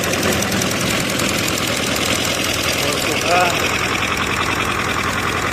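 A vehicle engine runs steadily just before setting off. The loud, continuous mechanical drone has a rapid knocking vibration and stays close and even throughout.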